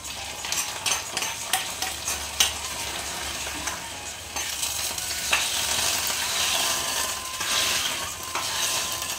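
Spices for sambar tempering sizzle and crackle in hot oil in a home kitchen, with steady frying hiss, scattered pops and stirring scrapes close up, and no voices.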